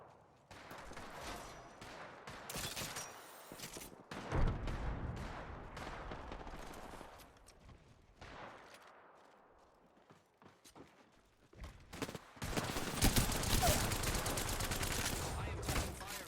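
Gunfire from a match of the video game Apex Legends, bursts of shots in two dense stretches separated by a quieter lull, loud and close amid game sounds.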